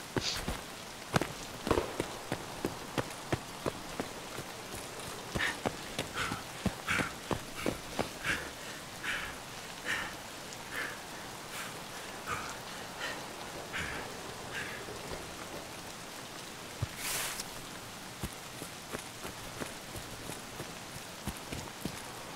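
Steady in-game rain in Escape from Tarkov patters on a surface with scattered sharper drips and taps, continuous and moderately faint with no voices.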